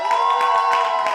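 Theatre audience at an improvised Dungeons and Dragons comedy show claps and cheers in a dense, close burst of applause, with rhythmic clapping under crowd noise.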